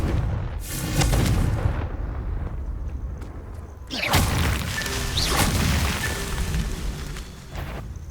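Confringo fire spells explode in Hogwarts Legacy, with deep booming blasts and crackling impacts, one near the start and another around midway, followed by rumbling debris and lingering fire noise.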